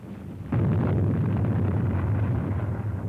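Artillery fire and explosions pound the Iwo Jima landing beaches, a sudden heavy boom that rolls into a sustained low rumbling roar, loud and without speech.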